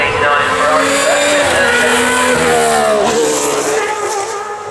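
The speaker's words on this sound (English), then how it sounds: "V12s and this 1989 Ferrari." A 1989 Ferrari V12 Formula One car screams at high revs at the Goodwood Festival of Speed, loud and close, with rising and falling gear changes and a sustained harmonic wail. A voice talks over it.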